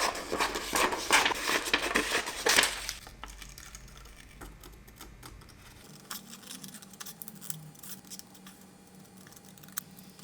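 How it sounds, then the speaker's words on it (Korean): Scissors cut through paper in a quiet indoor craft setting while a stained glass style polar bear is being made, giving long scraping snips at first, then sparser small clicks and rustles. "가위로 종이를 쭉 자르는 ASMR"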